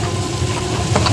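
Noodles frying in a pan in restaurant style, a steady, loud, close sizzle that fills the short moment without a break and with no voices over it.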